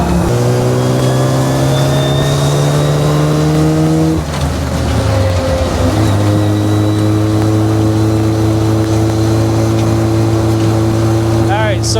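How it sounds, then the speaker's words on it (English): A Jeep fitted with a power steering conversion kit drives down the road at about 45 to 50 mph, heard from underneath as a loud, steady engine drone with a brief shift in pitch partway through, and no talking. "I'm gonna put the camera underneath the Jeep, and you can see what everything looks like and how it works when we're going down the road at cruising speed"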